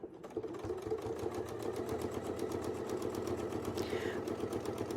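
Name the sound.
sewing machine quilting a design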